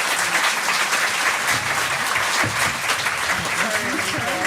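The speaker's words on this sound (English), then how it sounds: "Give it a round of applause" Sustained audience applause for a panel at a Black Maternal Health Conference in the UK, dense and even clapping throughout with faint voices underneath.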